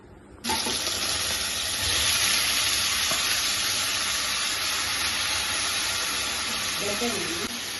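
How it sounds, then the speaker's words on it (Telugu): Potatoes fry in coconut oil in a pan, a loud, steady sizzle that starts abruptly and holds close and dense throughout, with faint clatter near the end. "బంగాళదుంప వేపుడికి నేను కొంచెం కొబ్బరి నూనె వేసుకున్నాను"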